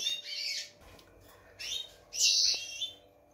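Goldfinches chirping in an aviary, three bursts of bright, high twittering calls separated by short pauses, fairly close with a faint background hum.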